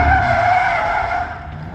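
A car drifting around a skid pad at a track, its tires squealing in one loud, steady, high-pitched screech that holds for the whole moment with no voices.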